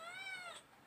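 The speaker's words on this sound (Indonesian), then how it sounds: "ini 5 ekor anak kucing yang dibuang oleh pekerja syarikat pengurusan highway ya" Kittens abandoned at a shop lot near a highway rest stop give a single high, clear meow, close and fairly quiet, rising then falling and fading out.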